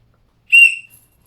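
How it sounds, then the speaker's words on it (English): A Naturehike lightweight camping whistle gives one short, sharp, shrill blast up close, fading quickly into silence. "Naturehike lightweight whistle."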